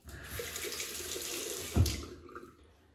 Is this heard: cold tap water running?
yes